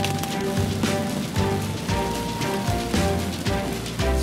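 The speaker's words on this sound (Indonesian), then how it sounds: "Suasana hujan pada waktu ini dengan ketinggian curah hujan sangat tinggi" Heavy rain in a tropical downpour, falling in a dense, steady wash with constant spatter close by and no voices.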